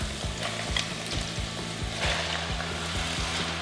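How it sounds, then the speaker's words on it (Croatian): Meat hits a pan of softened onion and garlic for a bolognese lasagna sauce, frying with a steady close sizzle and bubbling crackle, no voices. "Luk je omekšao i sad ću unutra staviti meso."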